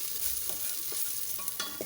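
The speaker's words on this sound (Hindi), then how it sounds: "इसको हमने अच्छी तरह घुमा लिया, ब्राउन नहीं करना, बस थोड़ा सा पक जाए।" Garlic stirs and sizzles in a pot for chow mein soup, a soft steady frying hiss broken by a few scraping stirs, close and without voices.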